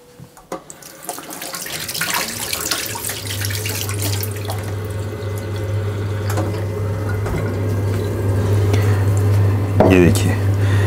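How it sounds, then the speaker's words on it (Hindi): Water poured and stirred into tomato seed pulp in a kitchen, a close continuous splashing, trickling flow with squishy mixing that grows louder toward the end, while a voice speaks briefly. "इसके अंदर हम कुछ पानी मिक्स करेंगे अब"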